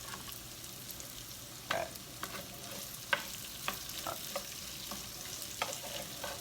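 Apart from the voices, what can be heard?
potatoes frying in a pan with pepper and salt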